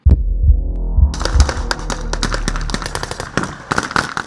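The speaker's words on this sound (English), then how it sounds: "gunfire signals the start of a joint military operation" A low rumbling hum with regular thumps gives way to rapid bursts of sharp gunfire in the desert at the start of a joint military operation, continuing in quick irregular volleys.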